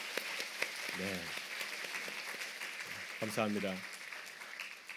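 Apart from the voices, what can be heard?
church congregation applauding to welcome a new member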